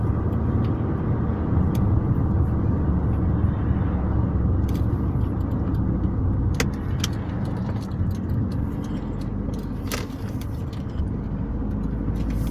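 A car drives along a road at about 40 km/h near Sillamäe, its engine and tyre noise forming a steady interior rumble with occasional small clicks and rattles.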